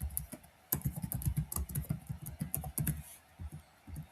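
Rapid, close clatter of keys on a computer keyboard as Python code is typed, uneven bursts of clicks with brief pauses, no voices.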